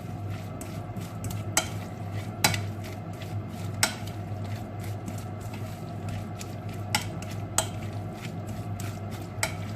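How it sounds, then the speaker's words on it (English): Sliced onions being stirred with salt in a pan for Swedish onion sauce: a steady, close, moist stirring and squishing with a faint sizzle underneath and a few sharp clicks of utensil on pan. "So we chuck in the onions. Mix it around. You want the onions to blend with the salt."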